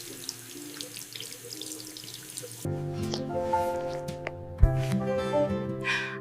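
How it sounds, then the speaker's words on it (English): Warm water runs from a tap during a hair wash, starting as a soft trickle and then becoming a steadier close splashing flow with drips and clatter. "The water feels very warm."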